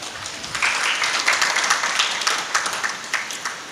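Audience clapping at a Devi Bhagwat Katha religious discourse, a steady patter of applause that swells around half a second and continues evenly to the end without talk.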